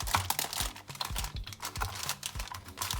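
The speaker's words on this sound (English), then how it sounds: "I'm using a pizza cutter, but you can also cut this with a knife." A pizza cutter rolls through firm caramel mixed nut bars, giving a steady run of close, crisp crunching and crinkling strokes, repeated every half second or so without any talking.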